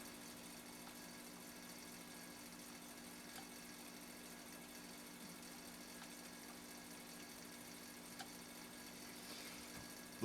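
A Singer 66-6 sewing machine stitching through two layers of full-grain leather, a steady, faint mechanical hum running evenly throughout with no talking.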